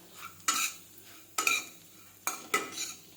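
Spring onion greens being stir-fried in a little oil, a quiet low sizzle punctuated by four sharp scraping clinks of a spatula against the pan, close by with no voices.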